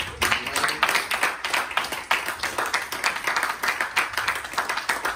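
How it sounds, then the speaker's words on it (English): A church congregation claps hands together during a worship service, a continuous run of overlapping, rhythmic claps with no talk over them. "Give the Lord a hand clap."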